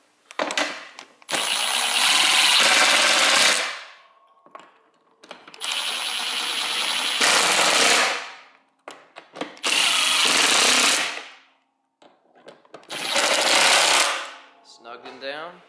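A power tool runs in four separate bursts of a few seconds each, tightening the bolts on the blade engagement belt of a Toro TimeMaster 30-inch mower, with short pauses and small clicks between bursts.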